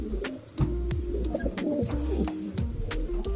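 A flock of over 30 racing pigeons coos in low, overlapping rolls close by, with repeated soft cooing phrases and a few wing flutters or knocks throughout.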